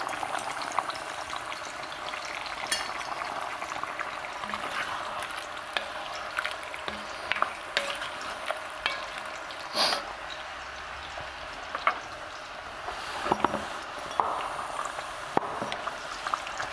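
Zucchini frying in oil in a pan, a soft continuous sizzle and crackle with scattered pops and occasional stirring clicks, fairly close and steady, no voices.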